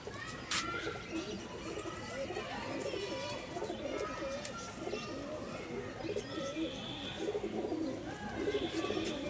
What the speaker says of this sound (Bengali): একজোড়া কালদম কবুতরের বাচ্চা